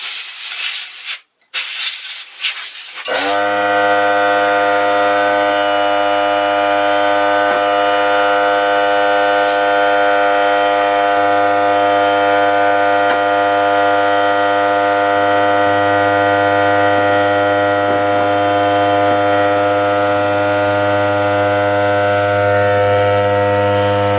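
A Hyper Tough 3 gallon air compressor starts after a few short hissing bursts, then runs and refills with a loud, steady motor drone and buzzing hum that continues unbroken and close.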